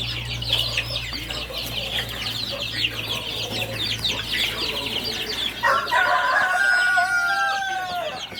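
Chickens on a farm with more than 400 birds, hens and chicks together, keep up dense overlapping clucking and chatter, close and loud, and a rooster crows clearly near the end.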